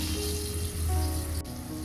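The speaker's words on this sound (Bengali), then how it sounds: "মাছগুলো একটু ভালো করে ভেজে নিতে হবে" Hilsa fish frying in oil, a steady close sizzle with a low continuous hiss, heard alone without talk.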